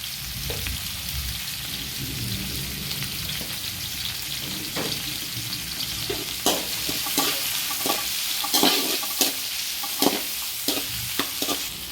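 Onions and sliced tomatoes sizzle steadily in a hot pan while cooking a simple greens palya, with spoon stirring and scraping clicks growing more frequent toward the end; close and clear, with no talking.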